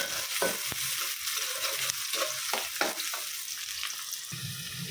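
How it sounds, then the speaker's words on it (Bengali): Chopped onions fry in hot oil until brown, a continuous close sizzle broken by several sharp scrapes and stirring clacks of a spatula against the pan, no talking. "তো এই পেঁয়াজ কুচিগুলো আমি একটু কী বলে বাদামি কালার করে ভেজে নেব"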